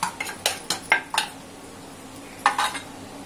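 Kashmiri chili powder being stir-fried in a pan for a dry Bombil (Bombay duck) chutney, heard as a quick run of close, sharp spatula clinks and scrapes against the metal, then a pause and another short burst.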